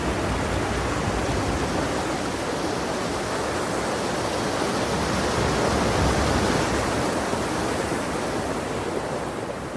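A river rushing loudly and continuously nearby as someone wades across it, a dense, unbroken roar of flowing water with no other sounds standing out.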